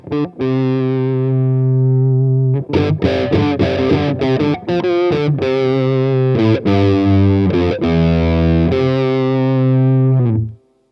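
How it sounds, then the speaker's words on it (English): Overdriven Mexican-made Fender Vintera II Road Worn Jazzmaster electric guitar rings out with sustained distorted chords and a quicker run of picked notes, loud and alone. "I have to boost up the overdrive on that just to hear what that sounds like."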